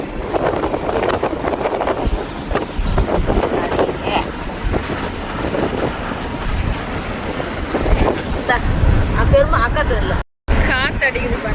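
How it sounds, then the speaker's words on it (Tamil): Steady wind rushing and buffeting past an open car door on a day out, a continuous broadband roar with gusts, while people talk over it. "காத்தடிக்குது பாருங்க."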